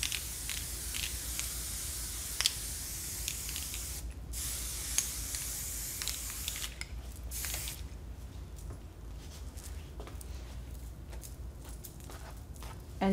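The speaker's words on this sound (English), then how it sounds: "then you would go in with your glossing spray, and this is going to really shine up her hair." Long, steady hissing bursts of an aerosol hair glossing spray, broken by short pauses, close to the microphone with no talking.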